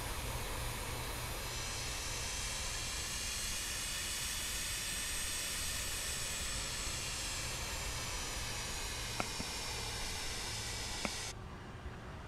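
Jet engines on a charter airliner spool up for taxi at LAX, a loud steady roar with a rising whine that holds throughout, plus two faint clicks near the end, with no speech.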